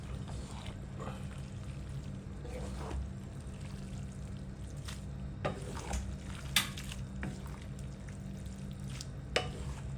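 Pansit gisado noodles being stirred and fried in a pan give a soft, steady sizzle broken by scraping stirs and a few louder clanks, with no one speaking.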